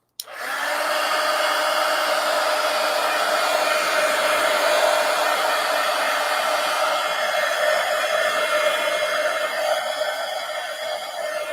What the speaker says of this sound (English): So let me get my heat gun and dry this.